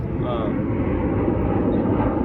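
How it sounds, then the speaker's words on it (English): Airplane flying overhead during a thru-hike camp, a steady low engine drone rumbling continuously and fairly loud throughout. "Another plane."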